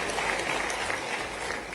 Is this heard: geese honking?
no